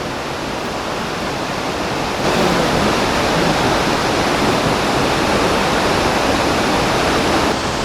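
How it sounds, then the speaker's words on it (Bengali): Sita Waterfalls near Ranchi, water plunging from a great height, a loud, steady, unbroken roar with no voices over it. "দেখুন সীতা ওয়াটারফলস, অনেক উঁচু থেকে জলটা নামছে"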